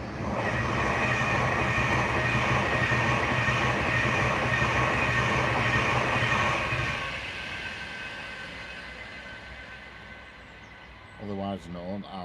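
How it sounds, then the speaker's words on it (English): A Pendolino train passes close by, its loud rumbling drone and rail clatter holding steady before fading away, with people talking near the end. "here we've got the Pendolino with all the branches and trees on it"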